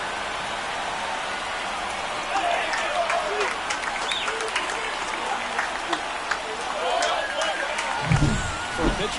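A stadium crowd in the baseball video game MLB The Show 24 roars and applauds after a home run, a dense sustained cheer running under a commentator's voice throughout.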